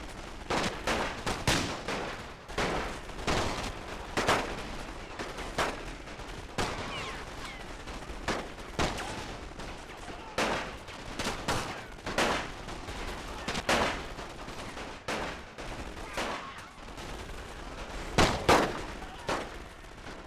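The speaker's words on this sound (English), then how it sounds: "they're taking a lot of fire from the SMGs" Submachine guns firing during a World War I battle in The Great War: Total War, a stream of short, sharp, distant-sounding gunshots in irregular bursts and single cracks, steady throughout with little talk.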